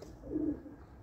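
One soft, low pigeon coo, brief and fairly faint, against quiet background noise.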